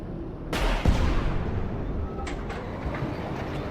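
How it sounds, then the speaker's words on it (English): Rapid cannon fire from a multi-cannon vehicle in the Vietnam War game Battlefield Vietnam: a sharp blast opens into a loud, dense rumble of gunfire that continues throughout, with a few further distant thumps, no talking. "So apparently this vehicle uses multiple simultaneous cannons, so it's capable of destroying various different targets at the same time."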